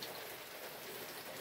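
Spring rain falling steadily, a soft continuous patter of drops on surfaces, even and fairly faint with no voices.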